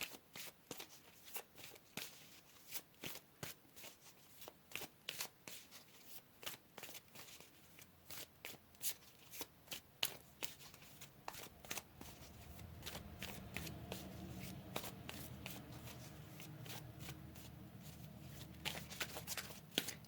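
Tarot cards riffled and shuffled by hand at close range, a long run of quick soft flutters and taps, sometimes bunched into denser stretches, with no talk.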